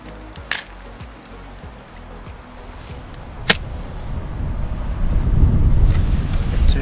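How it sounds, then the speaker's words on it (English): Gusty wind in Lapland buffets the microphone in a steady roar that builds louder toward the end, with a couple of sharp knocks early on. "Too windy. Wait until the wind has died down a little bit."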